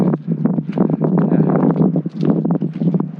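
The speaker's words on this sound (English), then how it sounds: "Wind's starting to pick up." Wind buffets a phone microphone outdoors by a seawall, a loud continuous rumbling roar with gusty fluctuations throughout.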